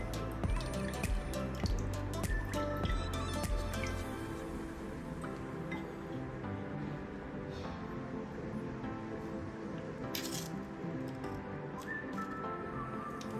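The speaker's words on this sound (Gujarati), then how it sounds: "એના ઉપર છે ને હું આ રીતે પાણી રેડીશ" Water is poured over a homemade watermelon candy mould. A continuous close trickle with scattered drips runs steadily and evenly throughout, with no voices.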